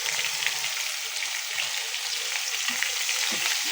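Ginger, garlic and chili paste frying in hot oil: a loud, continuous hiss and crackle close by, with occasional soft stirring knocks and no voices.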